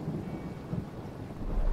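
Deep rumbling thunder rolls continuously under steady rain in a stormy scene from the video game Myths Of The World, moderately loud with no voices.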